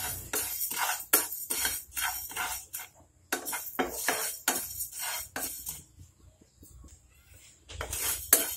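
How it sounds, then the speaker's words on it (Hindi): Fennel seeds are dry-roasted in a pan over a low flame, giving a bright, continuous rattling and scraping in repeated bursts as they are stirred, with short quiet pauses between the strokes. "और अब सौंफ भून लेंगे।"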